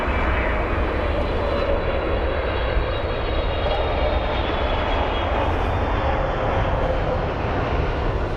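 An Emirates A380 airliner arriving at London Heathrow gives a steady, loud jet-engine roar that holds evenly throughout, broad and rushing with no breaks.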